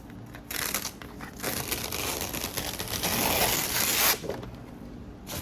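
A cut craft sheet peels slowly off its backing, a close, continuous crinkling and tearing rasp that builds over about five seconds, with no talk.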